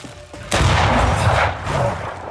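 Gunfire from the video game Banishers: a sudden loud blast opens a sustained, dense rumbling roar that stays strong for nearly two seconds, with no talk over it.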